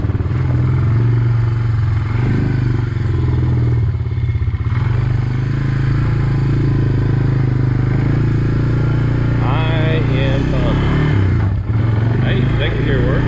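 A Honda Fourtrax 300 ATV engine runs steadily in gear, a loud low drone that holds throughout with clattering mechanical noise and a brief dip near the end, while a voice talks over it.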